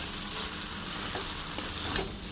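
Homemade chowmein stir-fried with Maggi masala sizzles steadily in the pan, with two brief clinks of stirring near the end.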